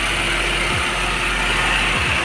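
Air-conditioning compressor of a 2008 Toyota Avanza running after replacement, a steady loud mechanical whir with a faint ratcheting tick and a couple of brief low thumps.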